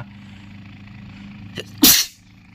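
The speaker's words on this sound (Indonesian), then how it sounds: "sorry guys bersin guys" A single sharp human sneeze bursts out suddenly, loud and close, after a short intake of breath over a low steady hum.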